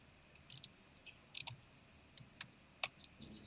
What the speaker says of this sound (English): we're going to trim this ribbon down